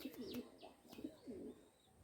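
A female Madras high-flying pigeon coos in a few short, throaty phrases close by, with faint higher chirps from other birds in the background.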